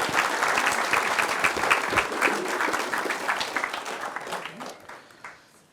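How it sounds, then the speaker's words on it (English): An audience at a wedding ceremony at Ballyliffin Lodge breaks into a warm round of applause, a dense wash of clapping that holds steady and then tapers off toward the end. "A little round of applause for both of our readers there"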